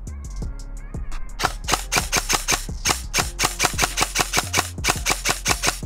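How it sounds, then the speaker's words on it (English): An Arcturus AK12 PE electric airsoft rifle test-fires BBs: a short motor whine is followed by a fast, steady string of snapping shots in quick rhythmic succession, close and fairly loud. "So why don't we just give this a quick test fire and see how she does."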